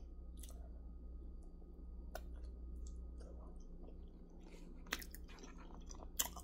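A young child chews a snack close by, soft wet crunching and biting clicks scattered over a quiet room with a low steady hum underneath.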